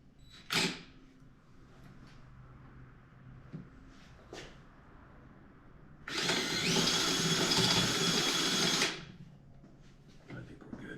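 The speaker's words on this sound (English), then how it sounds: "I think the drill's okay right now" A power drill whirs steadily for about three seconds, loud and close, with a few faint knocks and clicks before and after.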